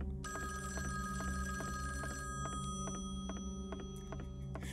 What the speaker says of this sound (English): And the phone will ring, and no one will answer!